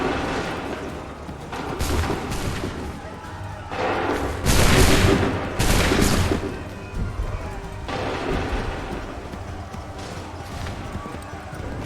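Musket volleys ring out in Assassin's Creed III, several loud crashing bursts of gunfire at irregular intervals, with voices shouting commands between the shots.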